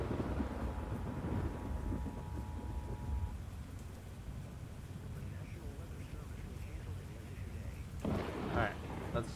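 Storm noise from the Roblox game Twisted: a continuous low rumble of thunder and rain with wind buffeting, with a brief steady tone early on and a louder swell near the end, under occasional speech.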